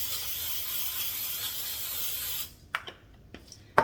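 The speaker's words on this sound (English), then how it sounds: "You want to take that Luana cooking spray and spray the bottom." Cooking spray hisses from a can into the bottom of an air fryer in a steady close spray for about two and a half seconds, then stops, leaving a few light clicks and taps.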